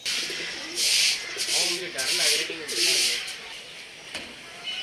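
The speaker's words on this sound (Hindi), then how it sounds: "और ये देखिए कबूतर उड़ के इधर आ गया" A pigeon being caught by hand coos softly while bursts of rustling and wing flutter rise and fall repeatedly, close by, with voices faintly present underneath.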